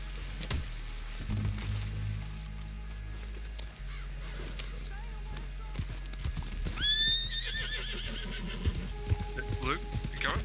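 Hooves clip-clop steadily with a horse's whinny rising near the end, under game music and ambient effects in Red Dead Redemption 2.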